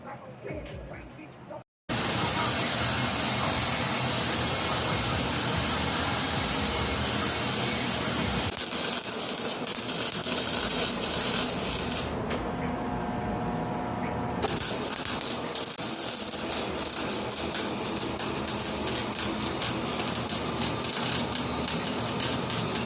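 Metal on a BMW X5 exhaust being cleaned before welding, a loud continuous abrasive grinding that runs almost the whole time after a brief pause near the start, shifting in pitch and intensity partway through.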